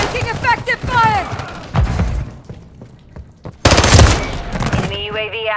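Gunfire in Call of Duty: Modern Warfare III: loud bursts of rapid automatic fire and close shots with thuds, a brief lull, then a heavy volley, with voices talking between and over the shooting.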